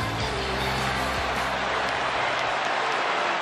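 Sold-out WWE Raw wrestling arena crowd applauding and cheering, a dense, steady wash of clapping that fills the space without letup, no voices standing out.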